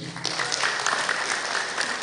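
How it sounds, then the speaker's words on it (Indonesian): Dense, enthusiastic applause from an audience at an Indonesian app tutorial session, a continuous loud wash of many hands clapping close by, with no talk heard over it. "Tepuk tangan yang meriah dong"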